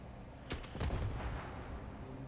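Turrets firing in the video game Starfield, a few sharp booming shots close together followed by a rumbling tail and low ambient noise, no speech.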